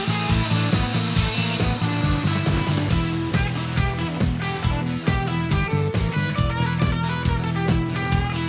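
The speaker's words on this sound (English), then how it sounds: "Now we cut a hole for our secret compartment." Hand saw cutting a hole in a wooden panel to make a hidden compartment inside a camper van, with steady rhythmic back-and-forth strokes, close and loud, running throughout without talk.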